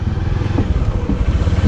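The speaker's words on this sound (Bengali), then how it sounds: "আমাদের ওয়াসি ভাই বাইক ঘুরাচ্ছে।" A motorcycle engine running on a cold winter day, with a loud, close, steady low rumble and rapid even pulsing throughout, no speech.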